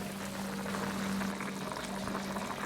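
Duck stew, made with beer and covered with water or broth, simmers in a lidded pot over medium-low heat, producing a continuous close bubbling murmur with a low steady hum underneath.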